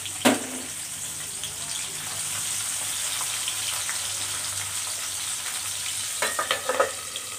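Steady loud sizzling of chilies and sambal ingredients frying in hot oil in a pan, with a couple of scraping stirs near the start and end.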